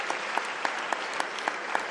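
A closing ceremony crowd for the academic year claps in a steady, dense round, with a few sharper claps rising at a regular pulse throughout.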